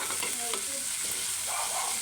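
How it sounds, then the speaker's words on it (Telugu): Chopped onions sizzle steadily in a little hot oil for onion samosa filling, a continuous close frying hiss with faint stirring and no talk. "కొద్దిగా ఆయిల్ వేసి ఇలా వేయించుకోవాలి."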